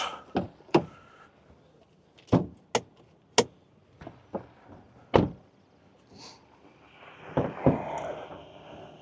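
A Hyundai Kona bonnet being opened outdoors: a run of sharp, close clicks and thunks from the latch and panel, spaced a second or so apart, then a softer rustle and hiss as the hood lifts.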